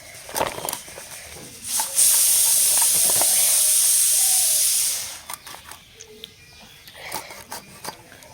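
A pressure cooker full of potatoes lets out a loud, steady steam hiss for about three seconds in a home kitchen, then cuts off, with light clatter and brief talk before and after.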